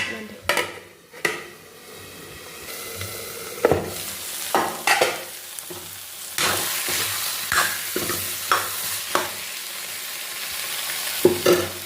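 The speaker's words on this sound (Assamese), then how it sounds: "মছলাৰ লগত মিহলি হওক মটৰখিনি" Peas with spices and potato sizzle in a frying pan while a utensil stirs them, giving repeated scraping knocks against the pan over a steady hiss.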